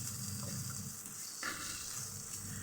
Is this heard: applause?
no